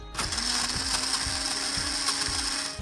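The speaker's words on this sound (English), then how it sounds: "Here's a traditional blender." A motorized blender running steadily at close range, a loud continuous whir with rhythmic grinding clicks and a sustained mechanical hum.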